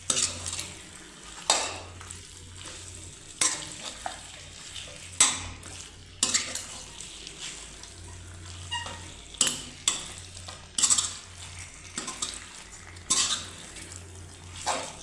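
A spicy chicken masala is stirred in a pan over a quiet simmer, with a spoon knocking and scraping against the metal every second or two, close by, and no speech.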